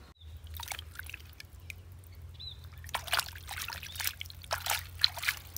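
Desert rose plant roots rinsed with water after the soil is picked away, soft intermittent trickling and splashing bursts, louder toward the end, over a low background hum with faint bird chirps.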